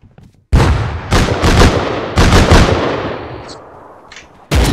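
Grenades blast again and again during a PvP firefight in the video game Rust, played on console, heavy booming detonations arriving in quick succession, loud and close, with rumbling tails between them.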